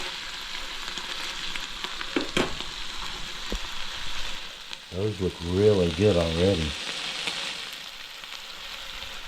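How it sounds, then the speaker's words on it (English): Steady crackling sizzle of food frying in a pan at a camp in an old Appalachian store, close by, with a person speaking briefly partway through. "I'll let them sizzle just a little bit"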